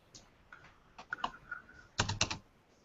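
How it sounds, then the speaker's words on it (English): Loud typing on a computer keyboard, several irregular bursts of sharp key clicks with a pause between them, close up and alone. "Someone is typing very, very loud there, guys."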